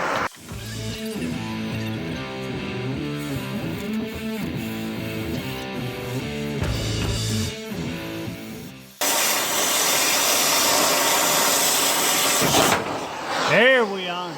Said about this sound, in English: when we cut this rear bolt, it's going to release all this and drop down